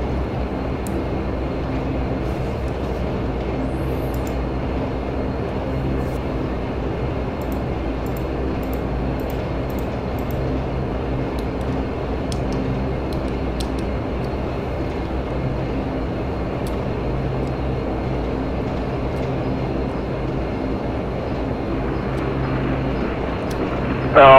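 A Bombardier Q400 turboprop airliner taxis in a flight simulator, its engines holding a steady, continuous drone at an even level with no letup for the whole stretch.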